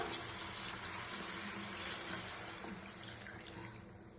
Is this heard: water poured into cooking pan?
yes